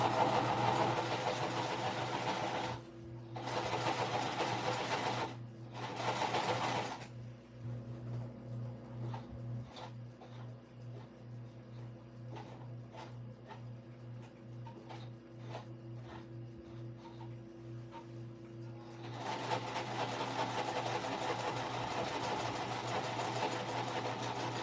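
A sewing machine top-stitching an Addy shoulder bag runs with a steady motor hum and quick, even stitch ticks, pausing and restarting in short bursts.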